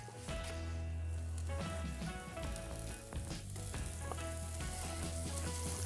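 Onion frying with butter on a grill, a dense continuous crackling sizzle with a low steady hum beneath it, fairly quiet overall and with no voices.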